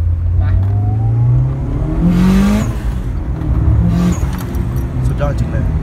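A car engine revs up and pulls away close by, pitch climbing through gear changes in a loud, strong sweep, then easing off, with someone talking briefly.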